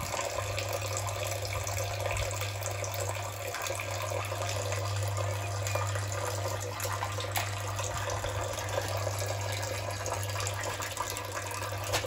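Water draining steadily from a pond filter tank, a continuous close, even rushing and trickling wash with a low hum beneath it, no voices.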